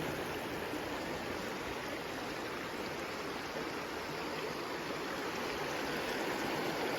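A natural stream flows steadily with a dense, continuous rush and babble of water, close and even throughout with no voices.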